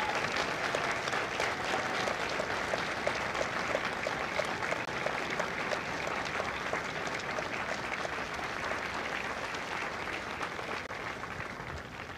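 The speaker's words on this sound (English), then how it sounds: "Ladies and gentlemen, a round of applause for their dedicated service to Corps and country." Sustained applause from a Marine Corps recruit graduation audience honoring Marine veterans at MCRD San Diego, a steady, dense clapping from a large outdoor crowd lasting throughout, fading slightly at the end.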